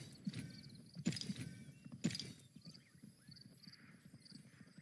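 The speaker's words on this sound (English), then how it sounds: "Yeah, I can hear a horse." Hooves clip-clop rapidly as a horse gallops in the video game Realm Royale, faint and somewhat distant, with soft game ambience around it.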